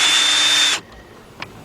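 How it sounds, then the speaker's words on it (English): A cordless drill with a Phillips bit on an adapter spins out screws on a 2014 Kia Sorento. It gives a loud, steady whir for under a second, then stops abruptly, followed by a faint click. "I'm using my cordless drill right here, and I got an adapter in here with the bit on it for a Phillips"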